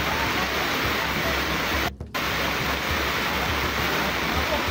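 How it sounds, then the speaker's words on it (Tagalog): Floodwater rushes through barangays of Calbayog City, Samar as a loud, dense roar that runs unbroken except for a brief dropout partway through. "Rumaragas ang tubig, baha sa ilang barangay sa Calbayog City, Samar"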